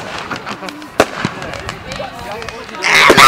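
Bonfire Night fireworks crackling and popping at a distance, with one sharp bang and a louder burst of crackle at the end, under a background of voices.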